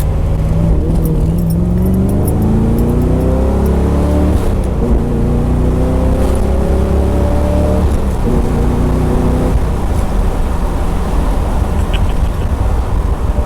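An unrestored 1972 Chevrolet Corvette engine revs hard and accelerates, its pitch climbing through several gear shifts. Loud and close, with no talking.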